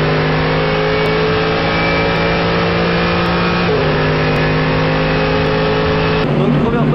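A Mercedes AMG GT3 Evo race car drives on a track in heavy rain, its loud engine droning steadily from onboard with a gear change partway through and a shift in pitch near the end.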